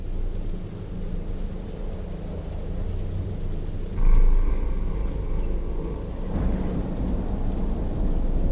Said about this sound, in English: We're back to the rain.